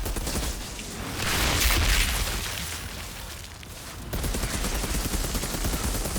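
Assault rifle fire in Outriders, loud rapid bursts of automatic gunfire with dense overlapping cracks, easing briefly before resuming.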